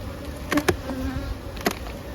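Honey bees buzz around an opened single brood chamber hive, a steady close hum with a few individual bees droning loudly past.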